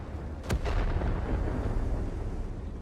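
A single heavy cannon blast from a T30 tank in World of Tanks booms out, followed by a rumbling echo that fades into a steady low background drone.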